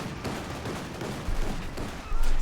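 Anti-tank rifle fire in Company of Heroes 2, a World War II real-time strategy game, heard as a dense, continuous wash of battle noise with heavier low thumps building toward the end; no voices.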